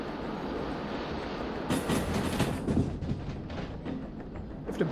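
Train wheels roll through a rail yard in the railway simulator game Derail Valley, giving a steady rumble with a run of louder clanking and rattling in the second half.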